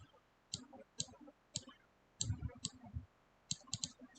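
A computer mouse right-clicks in a series of sharp, close clicks, some single and some in quick pairs, with a short busier cluster of clicks near the middle and no talking.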